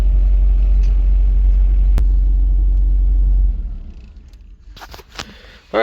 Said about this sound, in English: we'll leave the skid steer up here for now